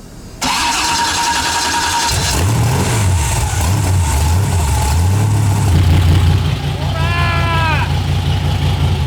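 A BMW E30 engine cranks and fires on its first start after repair, then settles into a loud, steady idle with the rumble of the running motor. People talk briefly nearby.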